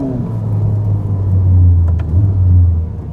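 A 1000 HP Ferrari accelerates hard on a public road, giving a loud, deep engine rumble that swells, dips briefly at a gear change and surges again, with no talk over it.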